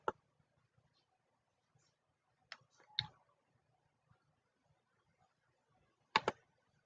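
Computer mouse clicks, a few sparse sharp clicks, some in quick pairs, close but quiet against near silence.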